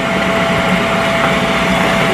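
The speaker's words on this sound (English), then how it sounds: "I'm going to show y'all how I vacuum seal." A DUPE-brand vacuum sealer runs with a steady, loud motor-and-pump drone, close by and unbroken throughout, with no talking over it.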